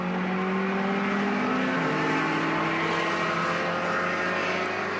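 A touring car at the 1975 Hardie Ferodo 1000 race drives past on the main straight at Bathurst, its engine a continuous high, rising whine of moderate loudness with no talk over it.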